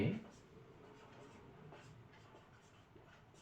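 A pen scratches out handwritten math working in short strokes, faint and close, heard under a soft steady background hum and brief talk.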